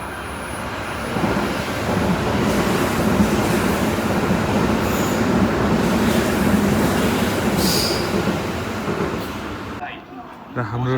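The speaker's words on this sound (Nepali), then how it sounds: "अब चाहिँ हाम्रो ट्रेन आइसक्यो" A local commuter train pulls into a station in Japan, a loud sustained rumble and rush of rail cars rolling close by for most of the stretch, then easing off near the end.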